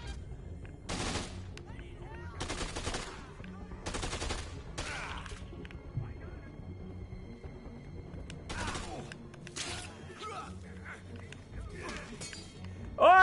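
A fully automatic weapon fires in Dead Rising 2, in several sustained bursts of rapid shots separated by short pauses. Softer clinks and game noise fill the gaps, and a closing burst comes in louder.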